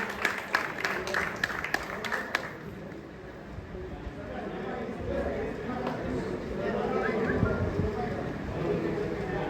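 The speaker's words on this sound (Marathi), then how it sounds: "सगळ्यांनी जोरदार टाळ्या वाजवा." Audience clapping at a senior citizens' association inauguration ceremony in Jalgaon, a burst of dense applause in the opening seconds that fades into a murmuring crowd and chatter with people talking.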